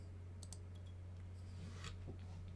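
Keyboard and mouse clicks from someone playing a bowling game, a few sharp faint taps scattered over a steady low electrical hum.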